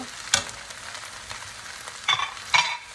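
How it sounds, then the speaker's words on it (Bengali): Pre-fried eggs are tipped into vegetable egg fried rice in a hot pan, a soft steady sizzle broken by three sharp scraping clatters from the spatula, close and unaccompanied by speech. "আমরা ডিমগুলো সব দিয়ে দিব ভেজে রাখা ডিমগুলো দিয়ে দিব"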